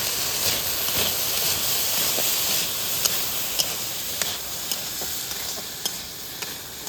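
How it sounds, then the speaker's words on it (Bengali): Potatoes frying in oil with turmeric and salt, a loud continuous close sizzle broken by sharp taps and scrapes of stirring. "একই তেলের মধ্যে আলু দিয়ে আলুটাও ভেজে নেব।"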